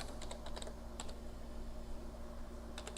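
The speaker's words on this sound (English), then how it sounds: "So just simply type this in" Quick bursts of typing on a computer keyboard, faint and close, with short clusters of key clicks near the start and the end and a quieter gap in between.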